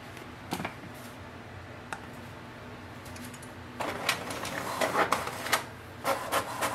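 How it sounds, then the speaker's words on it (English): HP OfficeJet 200 printer starting a print job: faint clicks and ticks at first, then a louder stretch of whirring, rubbing paper feed and mechanical clatter, heard close. "it will instantly start to print"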